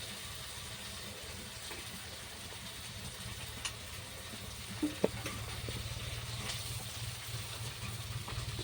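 Cumin paste sizzles as it fries with spices for Bengali aloo dum: a steady, faint hiss that continues throughout, broken by a few small pops and crackles.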